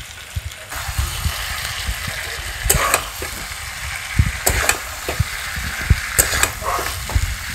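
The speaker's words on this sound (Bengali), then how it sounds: "তারপরে আমি এই যে ভেজে রেখেছিলাম আলুগুলো এর মধ্যে দিয়ে দেব।" Fried potatoes and pointed gourd tossed in a pan for a vegetarian curry, with a steady oily sizzle and repeated scraping stirs of the spatula at an irregular rhythm, close and fairly loud, with no talking.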